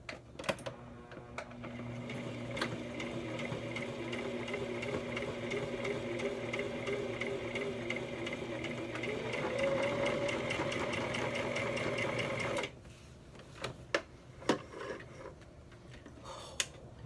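A sewing machine stitches a zipper into denim in one steady, close run of about twelve seconds, then stops, followed by a few sparse clicks and handling taps.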